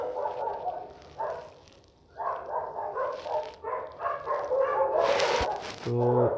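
Street dogs bark repeatedly outdoors in a string of short, moderately loud yelps and barks. A brief whine rises near the end.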